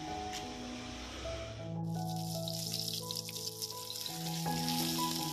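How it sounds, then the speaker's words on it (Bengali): Fish frying in a home kitchen pan gives a soft continuous sizzling hiss that swells after the first two seconds, partly masked by louder background music. "আমি অন্যদিকে মামার জন্য মাছ ভেজে নিচ্ছি"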